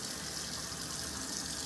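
Water pours steadily into a small plastic breast milk collector shell, a continuous close trickle and gush filling it toward its 2.5-ounce capacity, with no voices.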